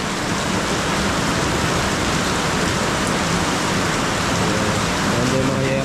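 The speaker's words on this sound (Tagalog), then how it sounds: "Lakas ng ulan, no? Grabe." Heavy rain pounds a corrugated metal roof in a steady, dense roar that never lets up, close and loud throughout.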